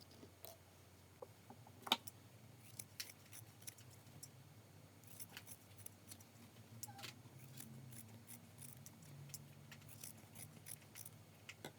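Scissors trim excess fabric from a Kazakh patchwork quilt block, giving faint, scattered snips and clicks over a quiet room hush, with one sharper cut near the start.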